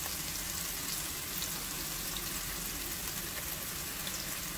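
Ginger and garlic sizzle in hot oil with frying onion for an Ethiopian vegetarian dish, a dense, steady crackling hiss that stays loud and even throughout, with no talk.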